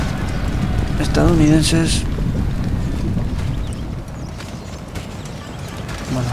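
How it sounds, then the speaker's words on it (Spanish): Cavalry horses charge across a battlefield in Empire Total War as Spanish and American armies clash, hooves thudding in a steady clip-clop under wind noise while someone commentates in Spanish over the action. "Vienen ahora los caballos."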